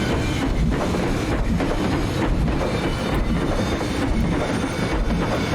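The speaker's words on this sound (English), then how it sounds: "Even good attention to detail for the train going through the mine." A train rides through a mine in the Planet Coaster game, giving a dense, continuous rumble with rattling, clattering texture that stays loud and steady throughout, with no talking.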